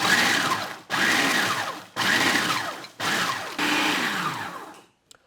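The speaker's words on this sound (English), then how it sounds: "we're just going to pulse this till it's nice and fine" A food processor pulses breading for fried green tomatoes until it is fine. There are five loud whirring bursts separated by brief pauses, then it stops.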